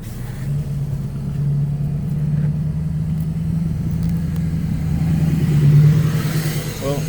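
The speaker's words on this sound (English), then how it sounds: "Well, if that truck doesn't scare the hell out of them." A truck rolls past at close range with a steady, loud engine drone that swells toward the end, heard outdoors with some talk.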